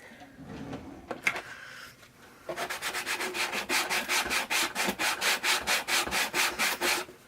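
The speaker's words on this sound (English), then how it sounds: "So I'm going to sand that off." Sandpaper rubbing the uneven edge of a small wooden box, first a few scattered scrapes, then a fast steady run of back-and-forth strokes, close and fairly quiet.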